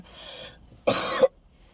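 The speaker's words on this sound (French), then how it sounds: "j'arrête pas de tousser." A single harsh cough bursts out close by after a moment of heavy breathing, then quiet.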